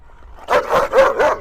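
A ten-year-old champion dog on a chain gives a short run of three or four close, loud barks and yips after a quiet start.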